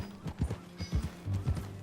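Horse hooves clip-clop at a steady walking rhythm in Red Dead Redemption 2, fairly quiet, with soft rustling around the footfalls.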